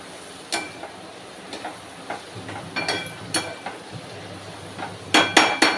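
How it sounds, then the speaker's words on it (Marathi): Cluster beans and potatoes stirred in a pan with a spatula: a string of irregular scrapes and metallic clinks, closer and denser toward the end, over a low steady background with no talk. "आता आपण गवार बटाटा पण मिक्स करून घेऊ."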